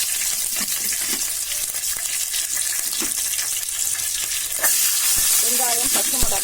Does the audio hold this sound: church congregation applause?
no